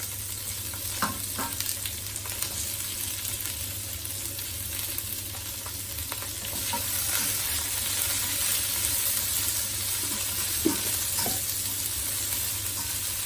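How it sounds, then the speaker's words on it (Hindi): Capsicum and green onion frying in a pan for veg rice, a constant close sizzle with light stirring scrapes now and then that grows slightly louder midway, and nobody speaks. "अब इसमें शिमला मिर्च और हरी प्याज डाल देंगे।"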